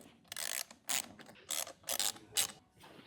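Removing the stock side panel on a Royal Enfield Interceptor 650 produces a series of close ratcheting, clicking mechanical bursts, five or six short rasps separated by brief pauses, fairly quiet with no talk.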